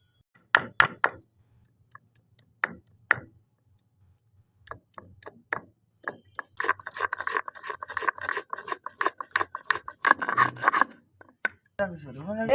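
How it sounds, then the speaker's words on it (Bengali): Ginger and fish are ground on a grinding stone in a village kitchen, heard as sparse knocks early on that become a dense run of rubbing, scraping strokes, close and fairly quiet. "একটু মাছ আদাটাকে আমরা বেটে নেবো"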